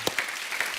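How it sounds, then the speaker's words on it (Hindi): A studio audience at a comedy talk show claps in a short, steady patter of applause that sounds distant and soft, with no one speaking over it. "जोरदार तालियां होनी चाहिए"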